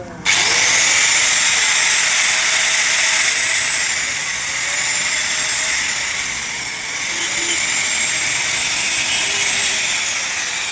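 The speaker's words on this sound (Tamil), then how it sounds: "இப்போ பாருங்கள், நான் மிஷின் ஆன் பண்ணுறேன்." A grinding machine switches on and runs with a loud, steady high-pitched whine and hiss that stays constant, with only slight dips in pitch and level, and no talking.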